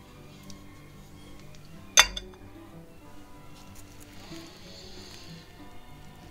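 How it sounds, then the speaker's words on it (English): A single sharp clink near the start as a knife cuts through air-fried vegetarian pigs in a blanket wrapped in crescent roll dough, then faint kitchen handling noises. "let's cut it in half and see what they look like inside"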